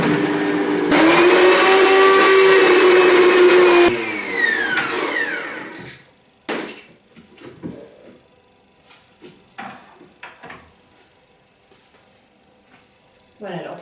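Blender whirs loudly for about three seconds, blending almonds and water into a vegan cheese base, then winds down and stops; clattering handling noises and scattered quiet sounds follow.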